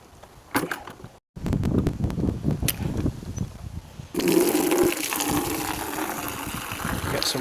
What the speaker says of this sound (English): Just fill my bucket.